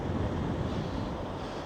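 Cold, gusty wind at 61 degrees roars steadily across the microphone in a dense, unbroken rumble, close and fairly loud, with no talking.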